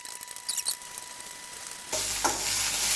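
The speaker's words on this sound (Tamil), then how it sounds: "இந்த பெரிய வெங்காயத்தை இந்த எண்ணெயில போட்டு நல்லா பிரவுன் கலரா வறுக்கணும்" Large onions fry in oil in a pan until brown, for a Tamil fish kolambu; a soft stirring crackle grows into a louder, steady sizzle about halfway through, with no talking.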